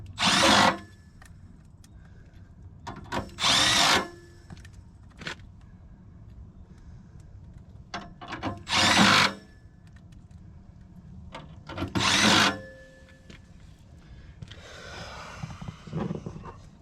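A power drill drives screws into a back panel of a Carrier 59MN7 furnace during heat exchanger replacement, in several loud whirring bursts of about a second each, separated by quieter workshop background.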